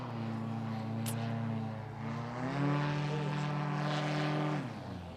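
A paramotor's propeller engine drones during a slalom competition flight at the FAI World Paramotor Slalom Championships, a steady buzzing tone that climbs in pitch midway as the throttle opens, then drops back, heard fairly faintly from a distance.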